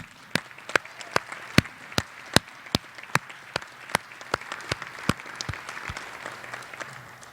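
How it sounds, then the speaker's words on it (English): Scattered, crisp claps from a graduation audience honoring the parents, loud and distinct with a steady uneven rhythm over about seven seconds, no voices over it. "So applause for the parents,"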